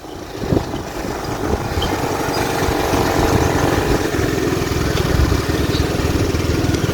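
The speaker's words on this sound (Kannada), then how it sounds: "ಬೈಕಲ್ಲಿ ಹೋಗ್ತಿರೋದು ಸ್ಕೂಟಿ." A scooter engine hums steadily at close range while being ridden on a road, a continuous mid-pitched drone with a few brief bumps near the start.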